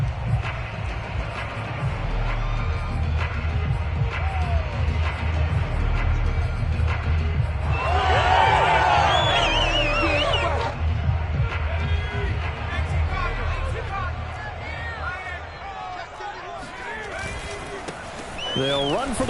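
A football stadium crowd roars and murmurs steadily at an American football game, a loud continuous wash of cheering that swells briefly in the middle, with a commentator talking over it throughout.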